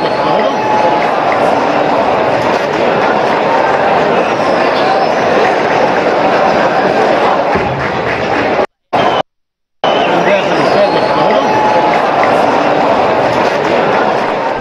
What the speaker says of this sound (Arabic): خلينا نسمع هذا الهتاف